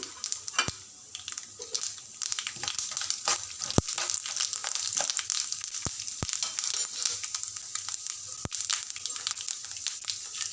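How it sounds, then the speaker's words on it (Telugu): Cumin, mustard seeds, chana dal and urad dal sizzle in hot oil in a kadai for palakura pachadi, a bright steady frying hiss broken by sharp pops and crackles of bursting seeds. "కడాయిలో మళ్ళొక ఒక రెండు స్పూన్ల ఆయిల్ వేసి జీలకర్ర ఆవాలు పచ్చినపప్పు మినప్పప్పు పోపు దినుసులన్నీ వేయాలండి"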